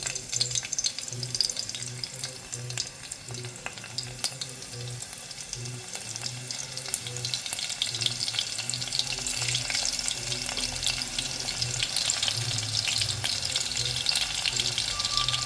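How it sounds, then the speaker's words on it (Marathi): Garlic sputtering in hot oil as a tempering for a mushroom masala, with a steady close sizzle, some faint clinks and a low rhythmic hum underneath, no talk. "तेल थोडं गरम झाल्यानंतर पहिल्यांदा आपल्याला यामध्ये घालायचं आहे हे लसूण फोडणीसाठी"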